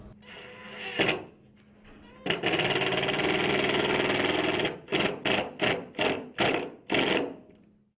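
A power driver whirs in bursts while driving screws into a Pella OXXO patio door frame during assembly: a short buzz, a long sustained run, then six quick pulses in a row, close and fairly loud.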